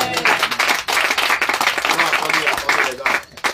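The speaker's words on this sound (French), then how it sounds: "Attendez, les gars. N'applaudissez pas," Church congregation applauding during a sermon, sustained clapping mixed with crowd voices and a speaker talking over it for a few seconds.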